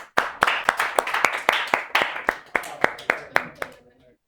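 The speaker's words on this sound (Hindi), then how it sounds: "एक बार चौहान जी के लिए जोरदार तालियां." Applause for a student in a law class: a small group claps in a brisk, even rhythm of about fourteen sharp, close claps that stop abruptly at the end.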